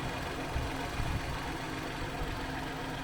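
A BMW X1 sDrive18i with a 1.5-litre three-cylinder 12-valve turbo petrol engine idles under an insulated engine cover, giving a steady low hum with faint irregular pulsing, close and even throughout.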